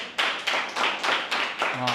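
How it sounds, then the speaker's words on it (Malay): Audience at a business talk clapping in short, rhythmic bursts of about five or six claps, fairly close and moderately loud, with a brief voice entering at the end. "Boleh tepuk tangan macam banyak sangat pula korang ni kan."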